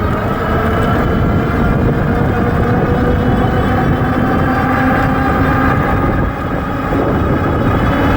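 Cyrusher XF900 full-suspension electric fat bike ridden fast at around 25 mph in pedal-assist mode 4, heard as a steady, loud roar of wind buffeting and rushing air with a low motor and tyre drone throughout, no talking.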